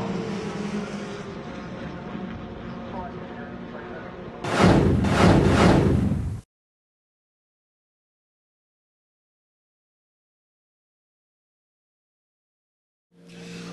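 Ford Fiesta race cars in a Class C championship race roar along the track as one car dives down the inside of another, a steady loud engine drone that swells briefly before the sound cuts to silence.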